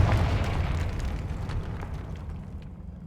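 A fiery Confringo spell blast in the Hogwarts Legacy wizarding game: a loud rumbling boom right at the start, with a long roar that slowly fades over about three seconds.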